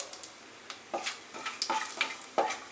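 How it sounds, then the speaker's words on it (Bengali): Whole spices fry in hot oil in a pan: a bay leaf, cardamom, cinnamon and cumin. Soft crackles and stirring scrapes come in irregular bursts, close by, at a quiet level. "ফোড়নটাকে কিছুক্ষণ ফ্রাই হতে দেব।"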